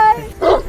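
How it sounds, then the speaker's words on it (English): A sheepdog gives a single short bark at close range, loud and abrupt, right after a brief moment of talk. "So this is the dog for the sheeps."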